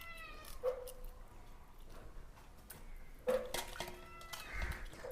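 Cat meowing in a home kitchen where fish is being cleaned and prepared, with short, mid-pitched calls at about 0.7 and 3.3 seconds amid kitchen clatter and no talk.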